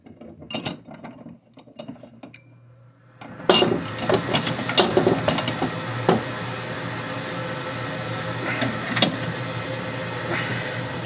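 Mokume-gane silver billet clamped in a vise and slowly twisted by hand for jewelry making, scattered metallic clinks and creaks, then a denser stretch of grinding, clicking metal strain, close, with no speech.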